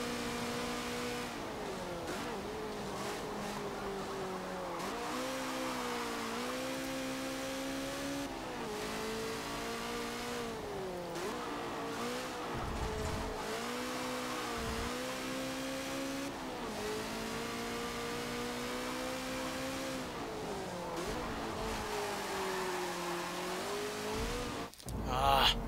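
Race car engine in Forza Motorsport 7 holds a steady, loud mid-pitched drone that rises and dips with throttle through the corners, with occasional shifts and a brief break near the end.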